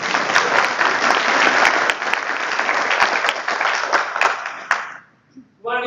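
An audience at a SharePoint talk gives a sustained round of applause, dense clapping from a crowd close by, fading out near the end before a voice begins.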